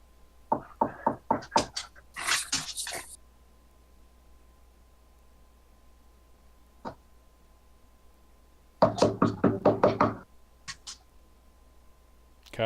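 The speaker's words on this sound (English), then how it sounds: "I knock on the door." Knocking on a door during a roleplaying session: a quick series of about six sharp raps, then a burst of noise, with a second cluster of knocks later on. Both clusters stand out clearly against quiet background hiss.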